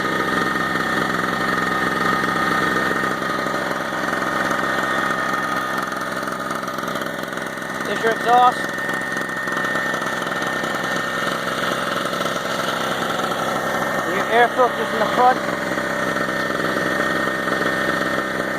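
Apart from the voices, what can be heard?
gas generator engine idling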